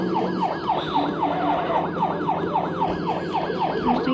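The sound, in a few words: police car siren in a video game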